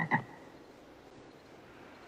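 Frog croak, a single short throaty call at the start, moderately close, followed by quiet background hiss.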